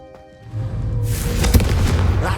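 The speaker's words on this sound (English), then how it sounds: "I think you'll find that a confringo cast travels a bit farther than that of a spell like Incendio" A Confringo fire spell blast in Hogwarts Legacy, a low rumble that builds into a loud, broad whooshing burst with crackling peaks, following a quiet lead-in.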